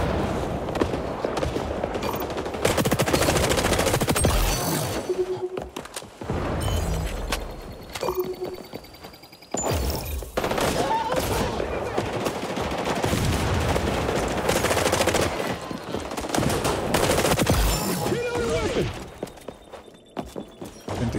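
Rapid automatic gunfire in the shooter game XDefiant, dense bursts of loud shots and booms that rattle on almost continuously, broken by brief lulls, with no talking over it.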